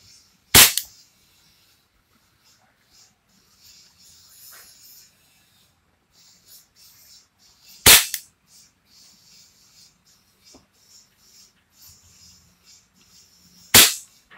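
A Taurus PT92 pistol fires indoors: three sharp, loud, close shots spaced about seven seconds apart, with near silence and faint rustling between them.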